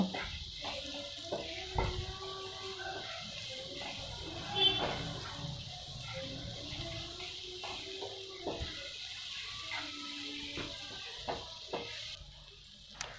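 Maggi Masala-ae-Magic spice mix sizzles softly in a pan for Maggi noodles, with scattered clinks and scrapes of stirring over a steady low fry.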